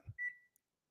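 An oven's timer gives a single short, bright electronic beep in a quiet kitchen, just after a soft low bump.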